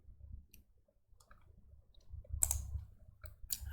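Computer mouse clicking during AutoCAD drafting, a few faint sparse clicks followed by two sharper, louder click bursts near the end, in a quiet room.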